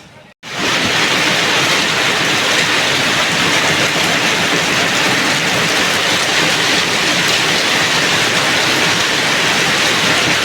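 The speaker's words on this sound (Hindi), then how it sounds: "क्या बारिश हो रही है, वाह भाई वाह, अल्टीमेट" Heavy rain pours down steadily in a dense, loud, continuous hiss after a brief quiet start, with no talking over it.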